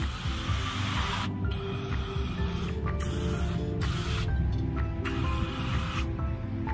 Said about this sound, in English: I'm gonna need another can of spray.